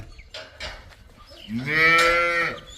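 A calf on a Punjab dairy farm moos once, a long, loud, rising bawl up close after a couple of shorter, softer grunts.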